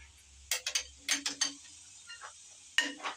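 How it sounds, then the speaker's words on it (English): A speed wrench ratchets bolts on a Dodge 360 engine from a 1986 Dodge 4wd, giving close, crisp clicking bursts in short groups with pauses between, alone and without talking. "Get my speed wrench in here. See if these are all torqued evenly."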